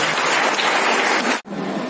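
An audience at a college prize-distribution ceremony applauds to welcome a guest. The clapping is loud and dense, breaks off sharply for an instant, then picks up again.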